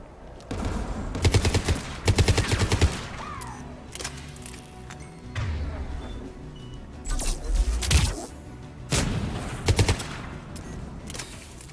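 Rapid anti-aircraft gun fire in Mass Effect 3, sharp clustered bursts of shots recurring over the scene, loud and near, with a low rumble and mechanical hum underneath.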